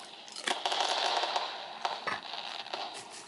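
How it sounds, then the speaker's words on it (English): Recorded fireworks bursts played back from a dog desensitization app, a run of sharp crackling pops and bangs at moderate loudness with no talking. "when the fireworks go off,"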